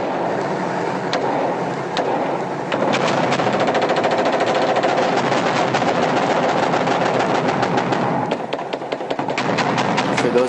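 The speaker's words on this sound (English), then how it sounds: "There was no fire that was taken from that mosque. It was shot into because we were angry." Sustained automatic gunfire aimed at a mosque minaret in Iraq, loud and continuous bursts of rapid shots with brief gaps, heard at close range.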